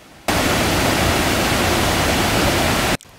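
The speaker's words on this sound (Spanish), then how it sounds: "encontrar esta impresionante cascada que nos han dejado las lluvias de los últimos días" Waterfall on the Dulce river at Aragosa, swollen by recent rains, roars as a steady, dense rush of water that starts abruptly and holds loud and even, then cuts off near the end.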